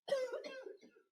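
One person gives a single throaty cough that trails off quickly, close and fairly quiet, with no speech.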